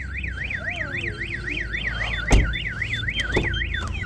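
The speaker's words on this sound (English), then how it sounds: "Your alarm's going off." A Compustar security system fitted to a Dodge Durango Trackhawk sounds its car alarm, a loud siren warbling steadily up and down at a fast regular rate, with a couple of brief thumps partway through and no speech.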